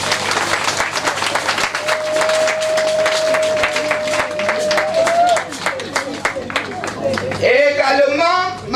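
Applause breaks out for the mother at a funeral, a sustained crowd clapping that fills the whole stretch, with a voice or sustained tone over it and livelier voices rising near the end.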